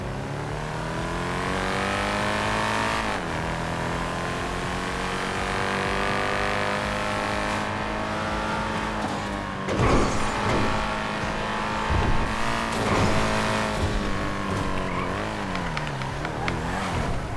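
A tuned car drives in a video game, its engine tone rising and falling steadily with gear changes, punctuated by a few louder revving bursts toward the end.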